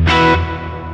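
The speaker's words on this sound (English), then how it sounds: "That is a lovely plate reverb" An electric guitar chord played through the plate reverb on a Sonicake Matribox processor, a bright, distorted strike whose smooth, dense tail decays over about a second.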